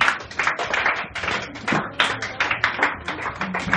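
A church congregation claps during prayer, a fast, dense run of hand claps in a steady rhythm, loud and close throughout.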